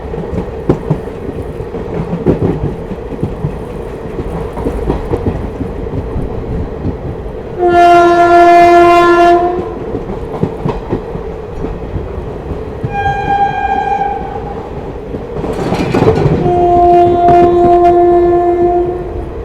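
Mussoorie Express train running near Doiwala railway station, its steady rumble carrying three loud horn blasts: a long one, a shorter one, then a final sustained blast.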